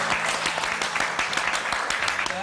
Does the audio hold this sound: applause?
yes